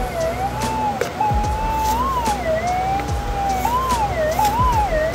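A gold-prospecting metal detector sounds over a buried target on bedrock, giving a loud, continuous warbling tone that wavers up and down in pitch against steady background noise.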